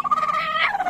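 A brooding hen sitting on her eggs in a coop gives one close, drawn-out tonal call that rises and then falls within a second.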